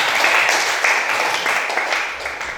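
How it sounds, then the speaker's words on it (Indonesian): A school class claps together in a classroom: dense, continuous hand-clapping, loud and close, with a faint voice mixed in. "Bagus, tepuk tangan."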